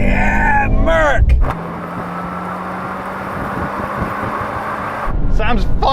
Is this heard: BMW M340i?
yes